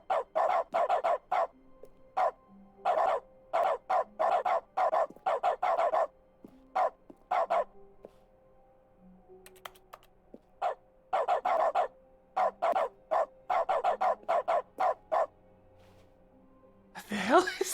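In the video game The Stanley Parable, a dog barks in Dog mode in repeated rapid bursts of sharp yips and woofs, separated by short pauses, close and clear over a faint hum.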